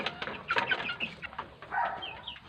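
Pet chicks being raised and fed peep in short high chirps, several scattered calls over a few seconds, close but fairly soft, with light background noise and no talk.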